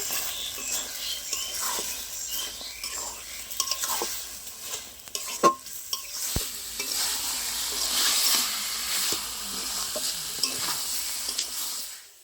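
Mutton liver being stir-fried with fried potatoes and spices in a pan, a steady oily sizzle under repeated scraping stirs of a spatula, with a few sharp knocks against the pan, close and moderately loud.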